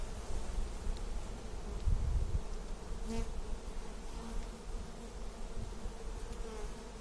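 Dense, steady buzzing of many honeybees at an open hive during a varroa mite check, a continuous close-up drone with brief louder bursts near the start, no talk over it.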